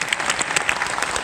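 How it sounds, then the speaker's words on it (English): Audience applause at a Winterfest event honoring a motocross racer, a steady dense clapping throughout the short stretch with no speech over it. "let's give Trey another round of applause"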